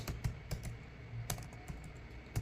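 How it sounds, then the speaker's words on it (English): Fingers tap on a computer keyboard in scattered, uneven keystrokes, faint and close, with no voices. "When I'm typing this"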